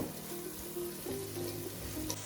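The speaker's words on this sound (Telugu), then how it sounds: "జింజర్ గార్లిక్ పేస్ట్ని బాగా ఫ్రై చేసేయాలన్నమాట" Ginger garlic paste fries with chicken in a pan, giving a soft, steady sizzle and bubbling at moderate distance with faint tonal hum underneath and no voices.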